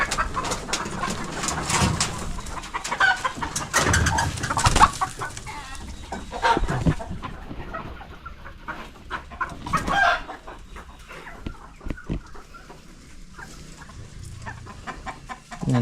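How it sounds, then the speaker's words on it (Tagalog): Chickens cluck and squawk in a busy flock, with a rooster-like call and scattered flapping, fairly close and continuous. "daming manok oh"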